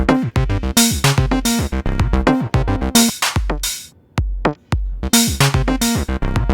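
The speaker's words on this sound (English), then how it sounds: "So what you're hearing is a combination of drums from BeatHawk and different sounds." Punchy sequenced drum pattern with a squelchy, resonant acid bassline pulsing underneath, loud and continuous with a brief breakdown midway.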